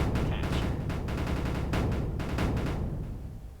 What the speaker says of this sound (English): The chorus of explosions as all of their materials perish.